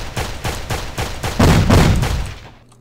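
A video game pistol fires in a rapid, regular string of shots, about a dozen loud cracks in quick rhythm, getting heavier midway before trailing off into silence.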